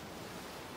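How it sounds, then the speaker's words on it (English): Enraged ocean waves in the visual novel Umineko, a cold splashing sea, give a brief, dense, constant roar of surf at steady loudness with no voices. "this was the sound of enraged waves."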